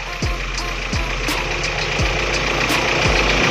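A carbureted car engine idles steadily with a low, even rumble while its mixture screw is adjusted, punctuated by a few recurring short descending whine-like sweeps, close and loud, with no voices.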